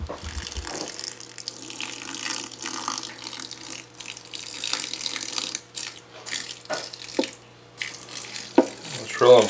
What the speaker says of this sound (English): I'm actually going to get a little bit of aquarium water and add it in here just so nothing dries out